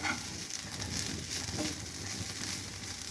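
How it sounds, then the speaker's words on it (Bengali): Boiled soybeans frying lightly in olive oil or white oil, a soft steady sizzle with faint crackles throughout, quiet and close, no voices. "ভেজে নিচ্ছি।"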